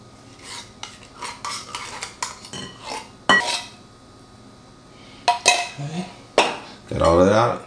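Cheddar cheese soup mixture being whisked in a bowl, quick metal clinks and scraping strokes in short bursts with pauses, close and moderately loud, with a voice speaking briefly in between.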